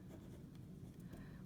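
Pen or pencil scratching across paper while a line plot of plum basket weights is written down, a faint, steady rustle with no voices.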